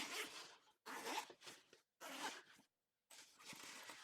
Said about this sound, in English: so I'm going to go ahead and unzip it